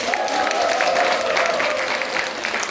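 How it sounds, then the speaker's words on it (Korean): An audience at a motivational lecture applauds, a continuous wash of clapping from many hands, fairly even and steady, with a faint voice underneath. "진심으로 멋진 분들만 박수 부탁드리겠습니다"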